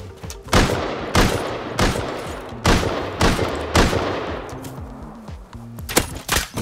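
Gunfire in the survival game Rust, heavy sharp shots crack out in quick bursts, several loud reports spaced about a second apart, then lighter, quieter shots trail off near the end.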